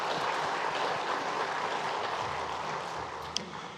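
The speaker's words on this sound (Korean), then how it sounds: "우리 위로와 감사의 박수로 격려하겠습니다" A dense, steady wash of applause from a church congregation during a Korean Sunday worship service. It holds at an even level throughout, with no speech over it.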